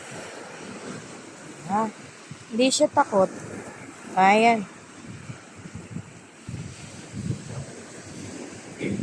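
Sea waves wash onto a beach under steady wind buffeting the microphone, a continuous surf hiss, while someone speaks briefly and children's voices rise now and then.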